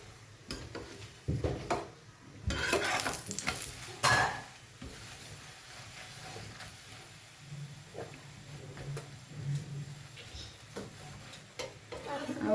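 Thepla flatbread cooks in oil on a low gas flame, giving a faint, soft sizzle broken by intermittent scraping and clattering of a spatula against the pan.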